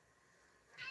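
A house cat meows once near the end, a short close call rising out of a quiet indoor room.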